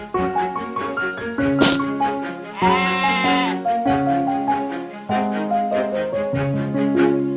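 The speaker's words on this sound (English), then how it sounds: "A sheep!" A sheep bleats several times in a row, wavering nasal cries at close range over an ongoing melodic backdrop with a brief higher rasping bleat.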